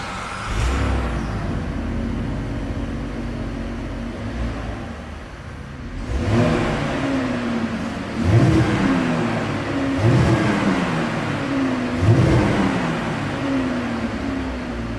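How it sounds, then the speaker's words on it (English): Car exhaust roars through a series of revs: a steady idle, then about four sharp throttle blips, each rising and falling in pitch, loud and close with no talking. "As always, here is that exhaust clip."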